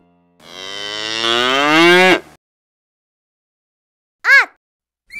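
A cow in an animated children's cartoon gives one long, loud, drawn-out moo, followed after a pause by a brief high-pitched voice call.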